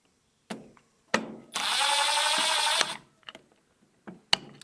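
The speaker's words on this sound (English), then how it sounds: "I'm just going to take a Phillips head drill bit or screwdriver, insert it into the two holes" A power drill with a Phillips bit whirs for about a second and a half, removing screws from a rifle butt pad, framed by sharp clicks and knocks of handling, close up in a quiet room.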